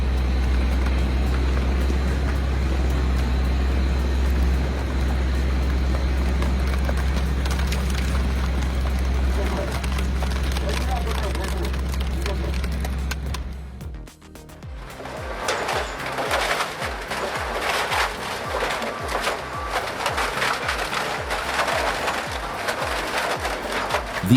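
An ST50 scrap shredder driven by 20-horsepower motors drones steadily, then breaks into a dense, rhythmic grinding and crunching that pulses on for the rest of the stretch.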